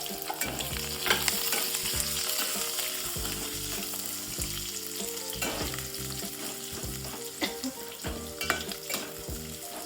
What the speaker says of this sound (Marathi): अख्खे मसाला टाकले मी.